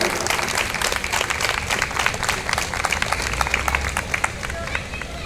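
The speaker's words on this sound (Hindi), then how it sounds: "एक बारी बहुत जोरदार तालियां दी भाई" Audience applause at a musical night held by a citizens' club, brisk crowd clapping with distinct individual claps standing out over a murmur of chatter, steady throughout.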